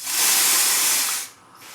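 A spray can hisses onto hair in one continuous loud burst lasting about a second, then cuts off abruptly, leaving faint room tone.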